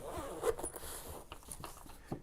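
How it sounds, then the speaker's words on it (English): The zipper on a compact gimbal storage case is drawn open close by in a few short scratchy pulls, quiet and alone in a still room. "It has a zipper here"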